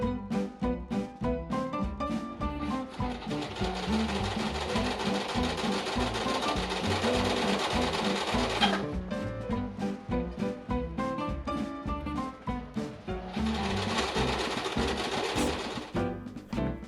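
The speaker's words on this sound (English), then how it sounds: "now I can slip this off and sew it with a zigzag stitch" A sewing machine runs a zigzag stitch on stretchy fabric, a steady rapid mechanical whir that pauses briefly and then resumes, close and alone.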